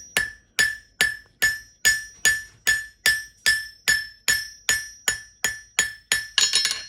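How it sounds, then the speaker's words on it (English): A hammer strikes a hot steel leaf on an anvil, with about fifteen sharp ringing blows in a steady, even rhythm, each leaving a bright metallic ring that decays before the next, close and loud. "Now we're turning her over with a round face to the hammer."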